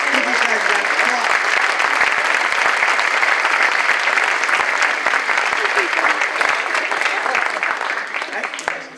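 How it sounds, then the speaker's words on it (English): Warm, dense applause fills the hall from a school holiday concert audience for the marching band's percussion players, steady and loud before tapering off at the end. "Everybody just give these guys a round of applause."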